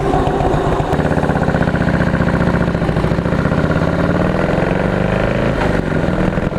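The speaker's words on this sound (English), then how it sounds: "Let's give it some gas." A 2017 Harley-Davidson Heritage V-twin runs loud and close, its throttle opening up into a sustained rising rev with a steady pulsing beat, then easing slightly near the end.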